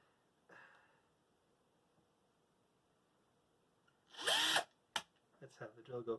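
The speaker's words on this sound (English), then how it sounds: "Let's have the drill go forward." A power drill bores into a case for an AGON Light 2 computer in one short, loud burst, followed by a quick bit of handling noise and brief talk.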